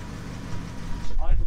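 A Triumph Stag engine with Stromberg CD 175 carburettors idles at a low, steady rumble during carburettor tuning, someone talking over it, the engine note swelling briefly near the end.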